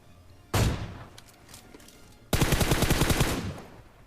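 Gunfire in the battle royale game BGMI: a single sharp burst of shots, then after a pause a longer rapid automatic volley, loud and close with no talk over it.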